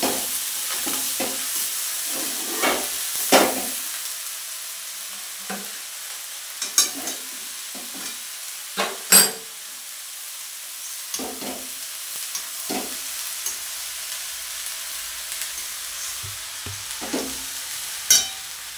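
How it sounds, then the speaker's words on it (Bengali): Rice being mixed in a hot frying pan for egg fried rice, with repeated scraping and clacking of a spatula over a quiet sizzle, the strokes coming in irregular bursts. "এবার আমি মিশিয়ে নিচ্ছি"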